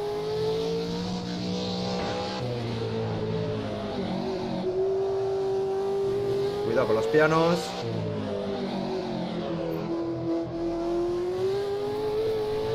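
Assetto Corsa race car lapping the Nürburgring, its engine droning loudly throughout with rising and falling revs, while someone speaks briefly over it.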